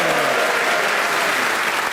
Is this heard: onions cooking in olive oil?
no